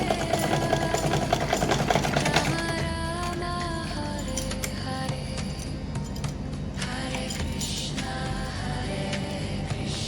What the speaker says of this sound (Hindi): तो चलिए मैं इसको सिलाई मशीन से सिल देती हूँ